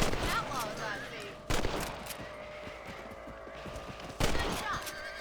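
In the Red Dead Redemption video game, rifle shots are fired at rabbits, with two sharp, loud cracks several seconds apart over an outdoor ambient bed and some voice in between.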